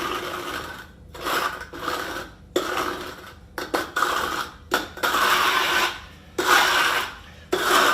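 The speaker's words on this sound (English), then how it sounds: "Just using my trowel." A notched steel trowel spreads ARDEX K 40 HB levelling compound across a floor, producing repeated close, wet scraping strokes of a second or so each, separated by short pauses.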